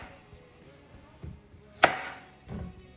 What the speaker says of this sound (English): let's get to chopping this squash